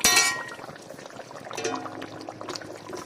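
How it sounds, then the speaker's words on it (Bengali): A small splash of water poured into a pot of reddened potato curry, starting with a loud brief pour, followed by bubbling, sizzling liquid and a faint clink, with no speech. "অল্প একটু পানি দিয়ে দিই,"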